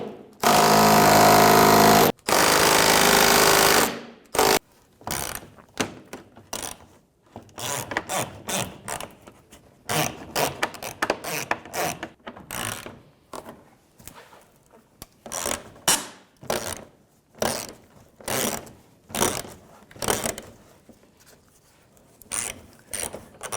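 Ratchet work on the 10mm front bumper bolts of a 2011-2017 Honda Odyssey: after a loud continuous burst at the start, a long run of sharp clicking ratchet strokes comes in irregular bursts, close and with no talk.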